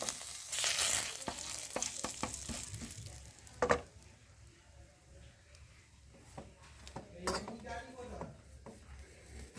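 Bay leaves in oil sizzle in a wok with a crackling burst at first, then steady frying with occasional spatula scrapes and clinks, a voice speaking nearby.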